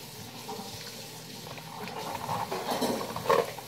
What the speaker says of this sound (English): And I need to mix it until it's dissolved.